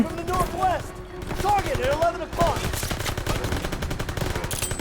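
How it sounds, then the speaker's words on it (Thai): Enemy soldiers in Call of Duty: WWII fire rapid machine-gun bursts, a sharp staccato rattle that grows denser toward the end, while someone talks excitedly over it. "แม่งยิงกูรัวเลย"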